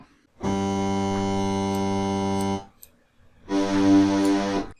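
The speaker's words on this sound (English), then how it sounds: "There we have a bass sound, not all that impressive" A steady, buzzy bass note from an EaganMatrix Osmose synthesizer preset holds for about two seconds, stops, then returns brighter and slightly shifting in tone as the timbre is turned up.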